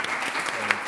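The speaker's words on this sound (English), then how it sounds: "I forgot the round of applause for you. So now we have to do a double one." A conference audience gives experts a brief, dense round of applause that stays even and close throughout under a faint voice.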